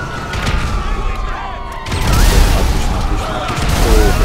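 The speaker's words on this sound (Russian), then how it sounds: "Давай вот так еще подкинем, чтобы посмотреть анимацию взрыва." Grenade blasts in GTA 5 on PlayStation 5, a loud booming explosion with a rumbling tail followed by a second heavy blast about two seconds in, dense and sustained.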